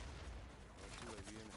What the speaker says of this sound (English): Gunfire down the hall.